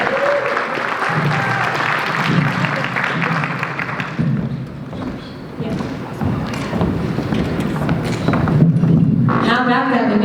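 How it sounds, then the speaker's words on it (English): A performance-night audience bursts into applause for performer Diane Boston, a dense, steady wash of clapping that fills the room for about ten seconds, swelling slightly near the end, with voices mixed in. "Please give a big round of applause."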